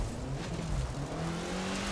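Race car engine in The Crew 2 holds a steady rumbling drone with shifting harmonic lines, close and continuous for the whole moment, with a light hint of tire noise.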